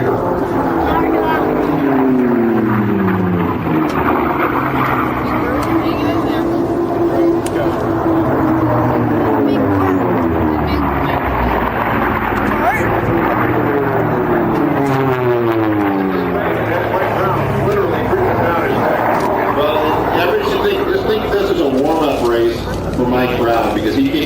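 An unlimited-class propeller racing airplane at the Reno Air Races roars past with a loud, sweeping drone that rises and falls in pitch as it passes, under a continuous announcer's commentary.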